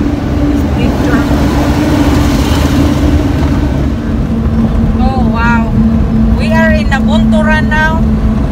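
A big truck rolls through road traffic with a steady heavy engine drone and loud road roar, joined late by a few honking horn blasts, as someone talks over the din.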